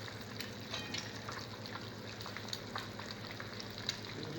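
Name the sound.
eggs and dry pepper frying in oil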